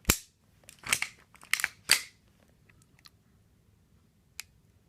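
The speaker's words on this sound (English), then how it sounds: "Reset is audible, it's in no way tactile." Beretta 92A1 pistol being dry-fired, with a heavy double-action trigger pull and an audible reset. Several sharp, close mechanical clicks come in a quick cluster over the first two seconds, followed by quiet and one last faint click.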